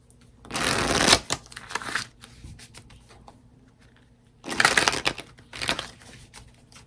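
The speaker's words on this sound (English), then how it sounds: "So we are going to be pulling some tarot cards and some oracle cards" Tarot cards are shuffled in two bursts of crisp, rapid riffling, close and moderately loud, separated by a quieter stretch with light handling sounds.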